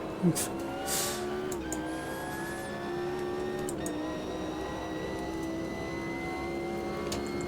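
Race car engine bouncing off the rev limiter in the racing game Automobilista 2, on soft tyres: a steady, buzzing high-revving drone held at a constant pitch with slight stutters, moderately loud throughout.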